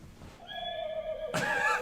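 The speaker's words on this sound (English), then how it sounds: "he's got a horse sound" A horse neigh sound effect from the Dawn of Titans game, a clear, close whinny with a sustained wavering tone followed by a louder breathy burst, heard without talk.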